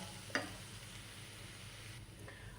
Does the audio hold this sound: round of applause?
no